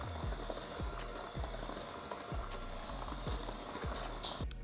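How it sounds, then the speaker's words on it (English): Electric hand mixer beats sourdough oatmeal cookie batter with nutmeg and cinnamon, a steady close whir with rhythmic low thumps repeating about once a second as the beaters knock through the dough, running continuously throughout. "Hand mixer back in, nice and easy."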